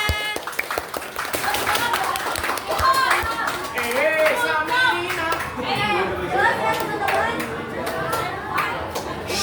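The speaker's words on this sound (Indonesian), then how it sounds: "Tepuk tangan." Schoolchildren clap together in a classroom, a dense, steady patter mixed with their excited chatter and shouts.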